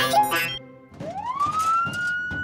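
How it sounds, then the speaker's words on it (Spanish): A cartoon siren sound effect in a children's garage show starts partway through, after a brief voice. It rises steadily in pitch and then holds a thin, moderately loud wail. "Esa es una sirena, pero tiene que ser más fuerte."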